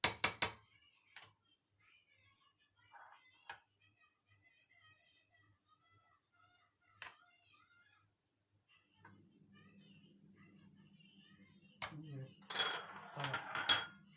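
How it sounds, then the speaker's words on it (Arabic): A spoon clinks against serving dishes in several sharp, separate taps while a chilled biscuit dessert's first layer is spooned in, followed by a low hum and a louder burst of clattering near the end, all quiet and close. "هنحط هنا في الاطباق دي الطبقة الاولى"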